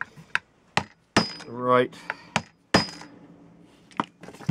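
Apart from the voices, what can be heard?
hammering staples into wood to set up a Victor rat trap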